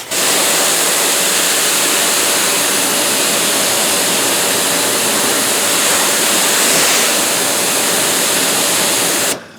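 Water sprayed steadily onto car paint sealed with DPC Armor SiO2 sealant, sheeting off the panel as a loud, continuous hissing rush that cuts off abruptly at the end.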